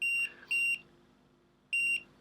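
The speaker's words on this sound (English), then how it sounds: "You literally press this red button, and it'll beep." Shrill electronic beeps in short repeated pairs from the anti-loss function of a Vandy Vape Swell vape device, a pause, then more, high-pitched and clear against a quiet background.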